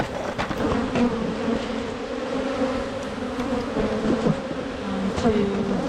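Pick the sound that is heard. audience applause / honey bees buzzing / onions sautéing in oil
honey bees buzzing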